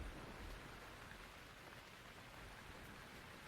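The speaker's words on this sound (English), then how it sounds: "the rain still continues throughout the thunder and beyond" Steady rain falls continuously, a dense even hiss of drops with no breaks, moderately loud throughout.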